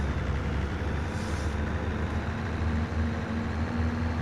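A Fiat tractor engine in Farm Sim 25 drones at a steady, low rumbling pitch, moderately loud and continuous with no talk over it.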